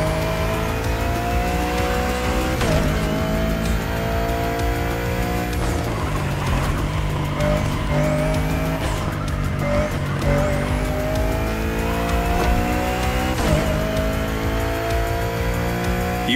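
Touring cars race flat out in The Crew Motorfest, engines roaring steadily with rising gear-change whines and repeated tire squeals and skids, a dense, continuous loud racket with no talk.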